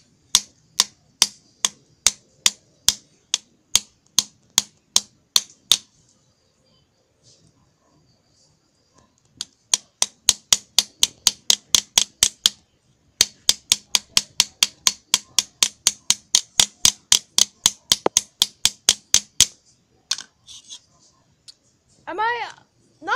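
A plastic hammer strikes a Tom and Jerry DVD over and over, making sharp, evenly spaced hard taps in quick runs. The runs are broken by short pauses, and a voice comes in briefly at the end.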